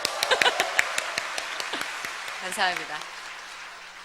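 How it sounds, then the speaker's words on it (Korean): Church congregation applauding at a 2014 testimony service: a burst of scattered claps near and far that thins out over a few seconds, with someone speaking over it. "우리의 만남을 주관하신 하나님께 드리는 박수니까"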